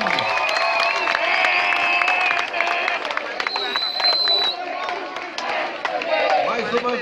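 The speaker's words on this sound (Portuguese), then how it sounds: "Aí está, palmas!" Audience applause and cheering at a scout closing ceremony in Mbanza Kongo as a certificate of merit is handed over, a steady crowd roar of clapping with voices talking over it throughout.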